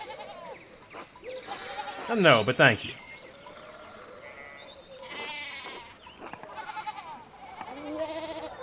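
Sheep bleating in the medieval adventure game Pentiment, a loud close bleat around the middle and fainter bleats later, mixed with game speech and background bird chirps.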